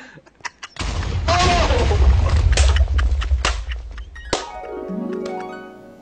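A Minecraft video game explosion erupts in a loud boom that rolls into a sustained crackling rumble, then tails off with a descending synthetic tone.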